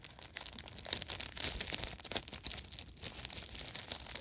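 A plastic bag holding an ERTL Bulgy toy is torn and crinkled open by hand, giving close, irregular crackling and rustling bursts throughout with no talking.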